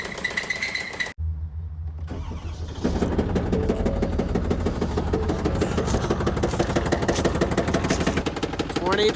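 A 2024 Ford Bronco engine cranks after a brief pause, then runs with a loud, steady rattling, ticking idle that continues to the end, with no voices over it.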